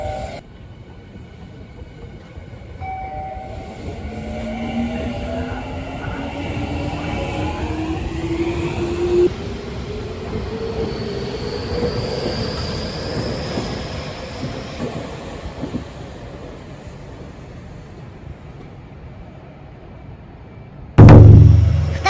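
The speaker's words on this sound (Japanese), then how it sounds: "2つ目、西武鉄道001系ラリュー。" A Seibu Railway 001 series Laview limited express pulls into Oizumi-gakuen station on the Seibu Ikebukuro Line, its motor whine rising and falling steadily over about twenty seconds before a loud thump near the end.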